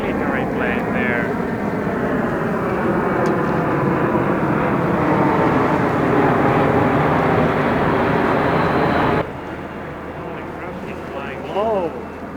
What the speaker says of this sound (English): That's a military plane there.